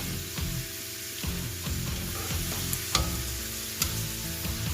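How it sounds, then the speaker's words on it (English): Onions simmer in a pot for carne guisada, giving a continuous, close, crackling sizzle with small pops and no talking. "we're going to let this simmer for a little bit, and we're just going to try to get the onions cooked down a little bit"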